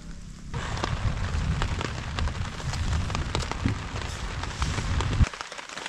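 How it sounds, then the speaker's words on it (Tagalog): Steady rain patters on a tent or tarp at a misty motorcycle campsite in Bokod, Benguet, a dense continuous hiss with scattered louder drops, heard alone and fairly close. "Dahil umuulan at mahamog, malamig, at tahimik"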